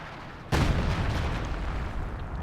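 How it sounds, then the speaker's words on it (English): Gunfire and artillery in Company of Heroes 2, a World War II strategy game battle between Wehrmacht and US forces, erupting suddenly into a loud, dense barrage of booms and shots that rumbles on without pause. "they're still shooting at Nick's position here"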